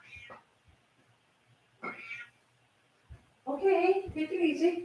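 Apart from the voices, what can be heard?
cat meowing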